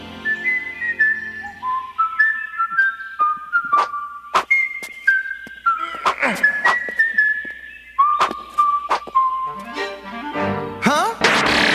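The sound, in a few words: cartoon character whistling the Mario theme song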